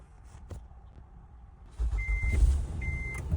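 A 2016 Honda Odyssey minivan engine cranking and catching after an alternator replacement, then idling steadily up close, with two short electronic beeps chiming over the running engine.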